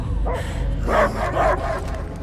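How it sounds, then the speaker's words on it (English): A dog in Marvel's Guardians of the Galaxy video game barks twice in quick succession, close and clear over a dense, continuous game soundscape. "I hear only barking"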